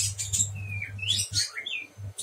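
A prenjak bird being trained to eat pellet feed sings a quick series of bright, high chirps and descending whistled notes, close and clear over a steady low hum.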